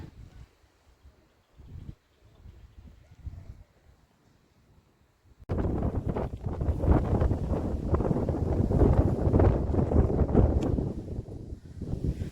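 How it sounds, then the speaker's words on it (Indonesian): Strong wind batters the microphone on a hike up Mount Guntur via Cikahuripan. After a quieter opening it bursts into a loud, sustained roaring gust that goes on to the end. "Ini aku silent mode ya, dengerin deh anginnya."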